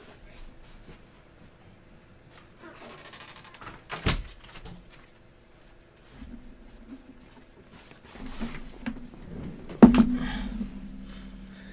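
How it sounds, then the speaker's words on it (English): Interior door being shut in a home with children running around, a few sharp knocks and thuds, including a distinct bang near the end, against quiet room tone. "Let me try to close the door."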